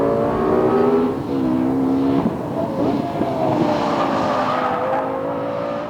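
A Lexus LFA supercar being driven, its engine droning loud and close from inside the cabin with shifting tones as it revs and settles, steady throughout.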